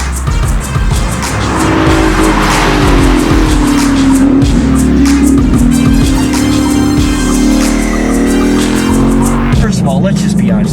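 A Ford Mustang and a Ford Focus RS racing on a track, with loud close engine roar, tire squeal and skidding throughout, mixed with speech.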